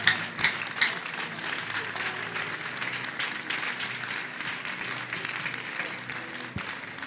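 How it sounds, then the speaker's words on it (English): Audience applause at a live church dream-interpretation program, dense steady clapping that fills the room for several seconds at moderate level, with a few louder individual claps near the start. "Let me see the clapping."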